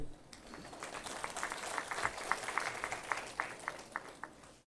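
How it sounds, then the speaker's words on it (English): Scattered audience applause at a mechanical engineering graduation day ceremony, fairly faint and distant, with irregular individual claps rising and thinning over a steady room hum. "I think a great round of applause for the placement cell here."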